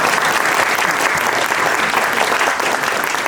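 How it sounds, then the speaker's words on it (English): Audience at an awards breakfast applauds together, a loud, dense and steady round of clapping from a room full of people that holds for several seconds. "You can go ahead and give yourself a round of applause for showing up"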